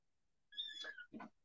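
A house cat meows twice in quick succession to be let in, a drawn-out tonal cry followed by a shorter lower one, close and clear against a quiet room.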